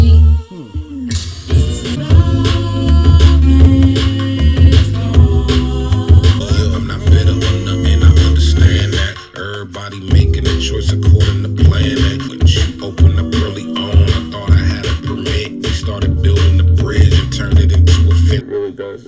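A song plays as a loud, full hip-hop mix with heavy bass and layered vocals, briefly dropping out near the middle before the beat returns.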